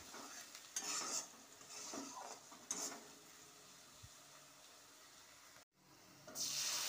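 Spices go into fried onions in a pan for chicken, with soft stirring and scraping in a few separate bursts over a faint, quiet sizzle, then a brief drop and a stronger hiss at the end.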